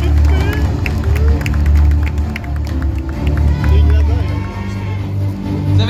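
Crowd at a cosplay parade clapping and cheering, a dense, steady wash of applause with hubbub and a voice over it throughout.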